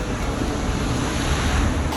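A four-wheel vehicle churns through muddy holes and puddles on a forest trail at DuPont State Recreational Forest, giving a steady, loud wash of splashing water and engine rumble that holds for the full two seconds.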